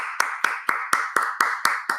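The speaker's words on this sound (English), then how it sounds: "Everybody, give yourselves a round of applause." One person claps slowly and steadily, eight crisp close hand claps at an even rhythm, alone with no talking.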